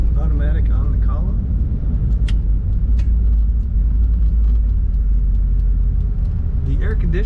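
A 1990 Chevrolet K5 Blazer 4x4 with an automatic transmission rumbles steadily from inside the cab as it drives, a low constant engine and road drone with faint rattles and a brief voice at the end.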